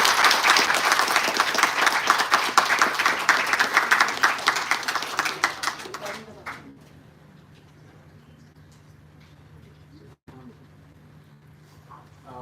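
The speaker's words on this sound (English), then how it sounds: "I think the applause can be a bit more louder to encourage the team" An audience at a memorial lecture applauds loudly for about six seconds, then the clapping thins out and fades into a quiet room hum.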